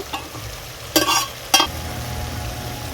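Masala cooked down with yogurt sizzling in oil in a pan as a little water is poured in, two sharp bursts of hiss over a steady low frying crackle, close and moderately loud.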